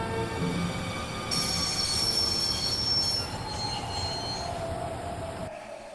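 Train braking to a stop in the video game Broken Sword: Shadow of the Templars, with loud, sustained high-pitched wheel squeal over a steady rolling rumble that fades as the train halts.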